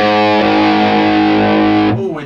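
A loud, distorted guitar tone sustains through an AudioStorm HotBox 120 MkV amp, then its spring reverb crashes and rattles as the volume is turned, cutting off near the end.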